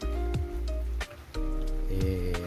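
Light drizzle falls while the sun is out, a steady soft patter of rain over a constant tonal background hum, briefly dipping before resuming.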